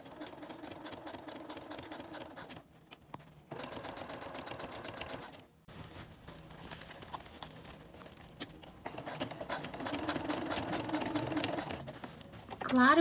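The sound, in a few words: sewing machine stitching over folded cord on ballet bodice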